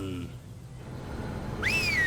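A rising whistle from the player character in the video game Stubbs the Zombie, a single bright upward-swooping tone arriving near the end over low background game ambience.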